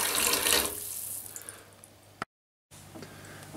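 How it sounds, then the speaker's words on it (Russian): Aquarium driftwood rinsed under a running tap, a close splashing gush of water that tapers off into drips, then cuts out briefly before faint trickling resumes. "Промываем корягу."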